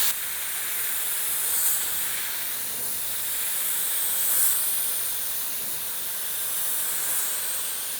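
A paint spray gun set to low air pressure, about 15 psi, gives off a steady, soft hiss with slight swells as it sweeps across in passes, with no other sounds present.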